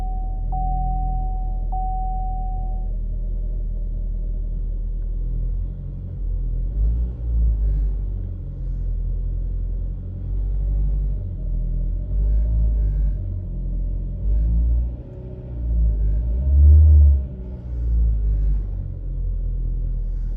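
Chevy Sonic L engine running after an exhaust flex pipe replacement: a low, deep idle rumble that stays steady with occasional swells in loudness, and no voices.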